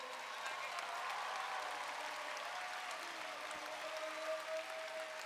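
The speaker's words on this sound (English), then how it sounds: "Let's have a round of applause for all the teams competing today" Crowd applause at a robotics competition world championship for the competing teams, a broad, steady roar of clapping and crowd noise from a large arena that continues evenly throughout.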